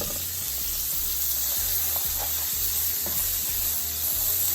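Cabbage, carrots, peppers and onion sizzle steadily in a curry pan, a loud continuous frying hiss with soft stirring scrapes and a low rhythmic hum underneath.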